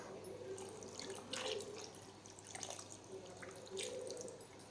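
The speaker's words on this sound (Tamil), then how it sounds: "இப்போ இதில் தேவையான தண்ணி சேர்த்துக்கலாம்." Water poured into a pan of Vanjaram fish for a Tamil-style podimas, a soft continuous trickle and splash in a quiet kitchen.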